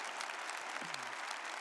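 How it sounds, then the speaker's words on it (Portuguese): Church congregation applauding during a Catholic Mass homily, a steady wash of many hands clapping throughout without pause. "começaram a aplaudir"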